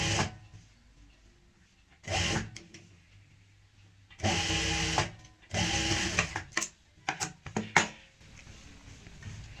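Sewing machine stitching the seam of a full-gher gharara garment, running in several separate bursts of steady mechanical whirring with short pauses between, fairly close.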